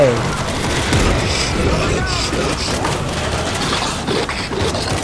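Rapid video game gunfire cuts down zombies at a bunker door in World War Z, a continuous dense rattle of shots with someone talking excitedly over it.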